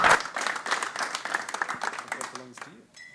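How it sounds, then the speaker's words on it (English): Scattered audience clapping at a tech talk on education and startup mindset, a light round of irregular hand claps that thins out, with voices mixed in near the end. "Can we get a massive round of applause for Darsel?"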